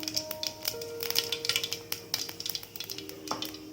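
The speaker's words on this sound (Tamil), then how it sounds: "கடாய் வச்சு 2 குழிக்கரண்டி எண்ணெய் ஊற்றிருக்கேன். கடுகு போடலாம்." Mustard seeds and fennel crackle in hot oil in a kadai, a close, steady sizzle broken by rapid sharp pops and a few light clinks of a utensil, with no voices.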